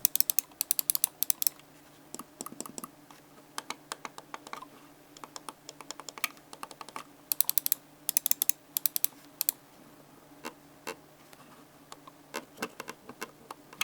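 Crisp Logitech MX Anywhere 3 mouse button clicks, close up, in irregular bursts and single presses with short pauses between them; no voices.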